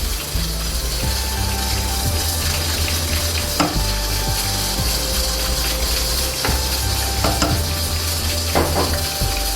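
Onions fry to golden brown in oil for haleem, a loud, continuous sizzle close by with occasional stirring clatter from a pot.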